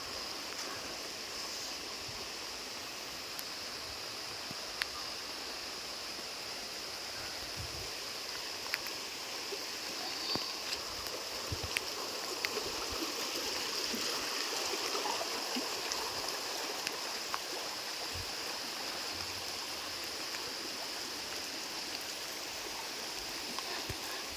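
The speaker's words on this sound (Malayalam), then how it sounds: "ഇതാണ് ഞങ്ങളുടെ നാട്ടിലെ" A small village stream in Kerala flows steadily, its broad watery rush holding at a moderate, even level throughout, with a few faint clicks and splashes near the bank and no talking.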